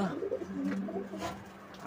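Low, soft cooing of tumbler pigeons, adults and their young, murmuring through a steady background hum, a few overlapping calls close by.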